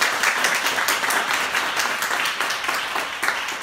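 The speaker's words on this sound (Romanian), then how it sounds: "Haideți să-i aplaudăm un pic pentru..." A seated congregation applauds its invited guests at a church gathering for a historical and theological discussion, with a continuous wash of many hands clapping close and fairly loud throughout.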